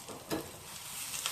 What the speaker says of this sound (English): we've got the onions sort of frying off there